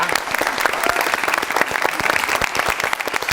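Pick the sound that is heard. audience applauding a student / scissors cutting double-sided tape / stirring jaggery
audience applauding a student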